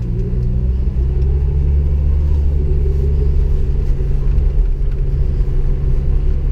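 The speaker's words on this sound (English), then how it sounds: "I want to see you hit the gas" A Jeep Wrangler SE engine rumbles loudly and continuously as the gas is pressed, a deep, steady roar heard close up for several seconds with no voices.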